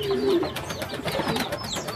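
A racing pigeon in a breeder's loft gives soft, low cooing calls close by, with faint chirps and rustling loft sounds around it and no talk.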